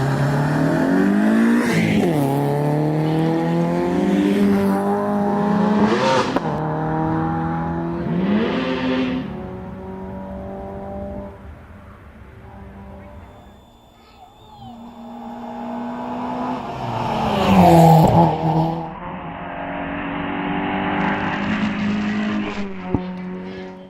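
Junior saloon racing cars at the Doune hillclimb, engines revving hard through gear changes as they pass close and fade, with a lull before another car howls by loudly.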